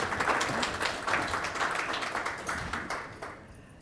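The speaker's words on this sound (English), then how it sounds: "Why don't we welcome them with a good round of applause to get our day started" An audience at a retail business session claps to welcome presenters, a brief, even burst of applause that tapers off after a few seconds.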